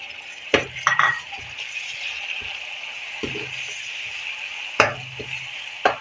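A large tomato goes into garlic-ginger paste frying in a pan for chicken bhuna masala, a steady sizzle broken by a few sharp utensil clinks and stirring scrapes, with no talking.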